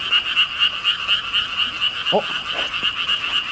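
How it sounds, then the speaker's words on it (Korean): Frogs croak in a dense, rhythmic night chorus of pulsing calls that repeat steadily, with a brief voice heard once partway through. "여기 개구리 맨날 울어."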